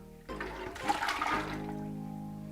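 Cold water poured and swirled to rinse out a pan while making mango wine, a loud rushing, gurgling burst of water that settles into a softer trickle.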